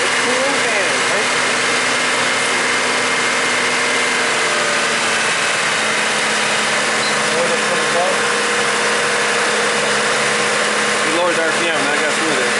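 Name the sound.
Chevy Trailblazer engine idling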